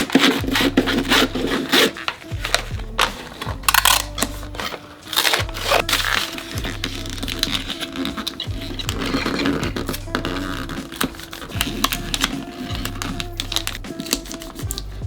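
Gift paper is wrapped around a small present of eye patches, making close, busy crinkling, rustling and folding sounds, broken by brief thumps and scrapes of handling, with no talking.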